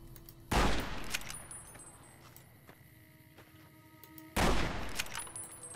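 Two loud gunshots in the video game Fallout New Vegas, fired several seconds apart, each a sharp blast with a ringing tail over quiet game ambience.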